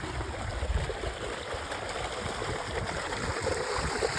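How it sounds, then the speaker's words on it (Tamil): A steady, forceful rush of water through a village canal near a large twin bridge in South India, filling the scene with close, broadband churning and gurgling that never lets up, with no talk over it. "செம்ம போர்ஸு தண்ணி வந்துட்டு இருக்குது"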